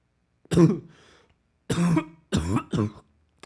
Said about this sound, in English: Clearly, that's why I'm coughing.